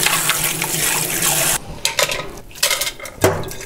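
Water is poured into a cooking pot to start a broth for spicy perilla-leaf kimchi, a close, rushing splash for a moment that gives way to a few clunks and sloshes of the pot.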